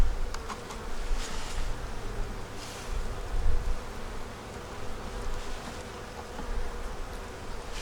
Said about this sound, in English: once we finish with these bees